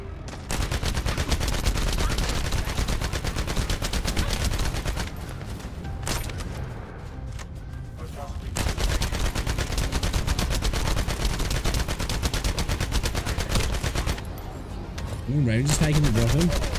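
Rapid automatic fire from a light machine gun in a looter-shooter video game, sustained bursts with short gaps, loud and close, with a player talking over the shooting.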